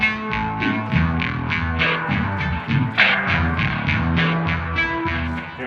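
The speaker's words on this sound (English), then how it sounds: "Now that we have a little bit of reverb going on and just a little echo" Electric guitar played through a BOSS SY-200 synthesizer pedal with light reverb and a little echo, a steady run of evenly pulsing, repeating synth-like notes with a dense, effected tone, loud and continuous without talk.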